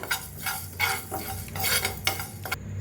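Fennel and fenugreek seeds are dry-roasted in a pan while being stirred. The stirring makes a series of about five rhythmic, close scraping sweeps over a faint sizzle, with no talking.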